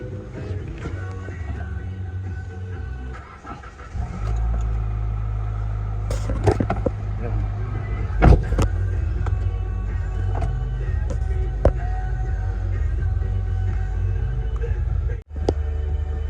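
A car engine is switched on during an OBD scanner engine-fault check; a steady, loud low idle rumble takes hold after about four seconds and runs to the end, with a few brief clicks and knocks over it and a short drop near fifteen seconds.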